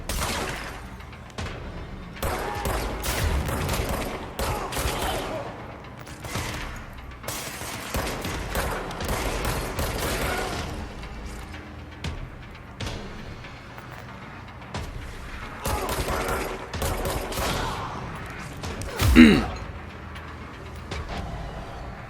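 Gunfire from shotgun-wielding enemies in the video game Control, a loud sustained barrage of booming blasts and bursts running through the whole stretch, peaking in a sharp heavy shot near the end.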